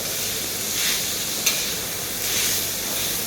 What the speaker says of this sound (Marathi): आता छान मी आता कारलं भाजून घेते सतत हलवत